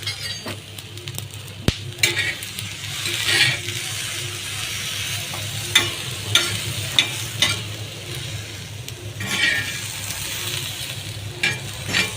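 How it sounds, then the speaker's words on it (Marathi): Unpeeled garlic cloves and green chilies roast in a hot pan with a steady sizzle, broken by scraping stirs and a few sharp clinks from the spatula against the pan. "सगळंच आम्ही लसूण पण ह्याच्यामध्ये भाजायला टाकणार आहे"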